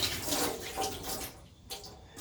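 Rinse water pouring out of a pot of white rice, a gentle uneven splashing stream in soft surges that briefly tapers off before resuming, close and quiet.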